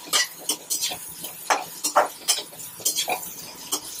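Onion, green chili, curry leaves, fennel and peanuts being stirred and sautéed in a pan, a close series of quick metallic clinks and scrapes from the spoon against the pan, with no talking.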